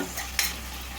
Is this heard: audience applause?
no